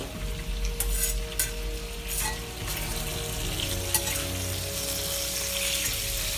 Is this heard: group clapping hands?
no